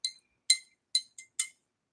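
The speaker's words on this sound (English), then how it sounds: "there's lots of clinking and clanking going on" Glass clinks five times in an irregular rhythm as paint brushes are cleaned in a glass jar, each strike short and bright and close by, with silence between them.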